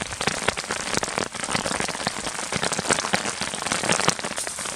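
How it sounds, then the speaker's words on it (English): Heavy rain pounds steadily on a tent at an alpine lake during a night rainstorm, a dense close patter with sharp drops striking the fabric throughout and no talk. "Just a few minutes ago, probably the hardest rain that I've heard it all night."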